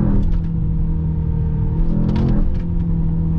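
A Mercedes-AMG GT63S E-Performance heard from inside the cabin while accelerating on the autobahn, with a steady, loud low engine rumble and a slight rise in revs, alone with no talk.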